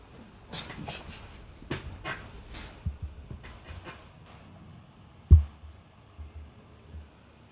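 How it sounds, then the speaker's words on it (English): Dog panting in the Elden Ring Nightreign video game, a quick series of rhythmic breathy pants near the start, followed by quieter scattered sounds and a single sharp thump. "Some dog."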